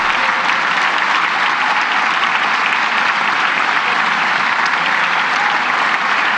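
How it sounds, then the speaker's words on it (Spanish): An audience applauds at a political address, a loud, sustained wash of clapping that holds steady from start to finish with no voices on top. "Hasta yo aplaudo, oigan."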